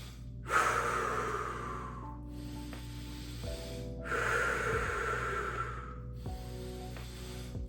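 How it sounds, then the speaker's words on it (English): Slow, deep breaths in and out, each long, airy inhale and exhale close and loud over a faint low hum, repeating in a steady cycle with no voices. "So you're gonna do 10 deep breaths."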